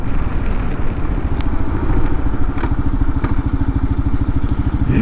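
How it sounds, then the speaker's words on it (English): A Kawasaki KLR 650 motorcycle engine braking down a hill with quick downshifts, a close, steady low thumping engine pulse that quickens into a rapid, even beat, with a few faint clicks over it. "Good engine braking coming down this hill."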